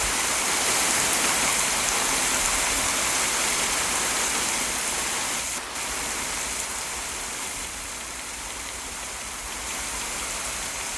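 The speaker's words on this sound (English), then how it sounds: "So now you have rain." Steady rain falls in a constant hiss, even and moderately loud, with no voices.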